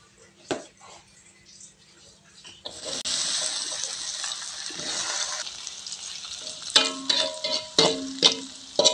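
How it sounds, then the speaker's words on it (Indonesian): Tempeh frying in a pan, a steady broadband sizzle swelling midway and continuing with sharper crackles and bursts near the end, close and moderately loud with faint background voices. "Lanjut goreng tempe"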